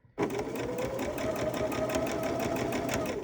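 A sewing machine runs steadily, stitching a quarter-inch seam through scrappy patchwork quilt fabric, starting abruptly and holding a continuous close, loud mechanical whir.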